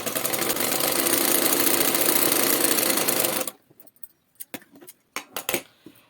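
A sewing machine runs a long continuous stitch along a blouse belt, loud and steady for about three seconds, then stops, leaving a few light clicks and handling knocks of fabric and parts.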